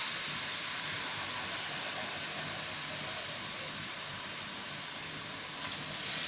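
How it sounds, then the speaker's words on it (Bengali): Water poured into fried spice paste for a vegetarian curry of papaya, plantain and potato, producing a loud, steady hiss and sizzle of steam that holds throughout, close by and with no voices. "দেখো মশলাটা ভাজা হয়ে গেছে, এতে আমি মাপ মতন জল দিয়ে দিচ্ছি।"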